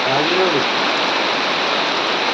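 A loud, continuous roar of heavy rain, with a brief voice at the start.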